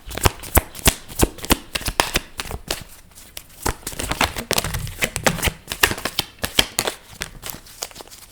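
A tarot deck is shuffled by hand, giving a steady run of crisp riffling slaps and rustles at close range that keeps going for the whole stretch.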